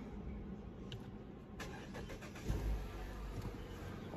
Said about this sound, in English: we'll try again to start the car